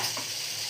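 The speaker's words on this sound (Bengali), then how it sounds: "ভালো করে পটলটাকে ভাজতে দিয়েছি আলুর সাথে।" Potato and pointed gourd fry in a pan, a steady close hiss and sizzle with faint stirring and no talk.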